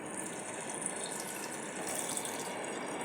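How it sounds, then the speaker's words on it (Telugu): Water is poured into a pot holding jaggery for a sweet recipe, a steady close splashing flow running continuously for a few seconds with no talk. "ఇందులోకి ఒక పావు కప్పు వాటర్ పోసుకోవాలి"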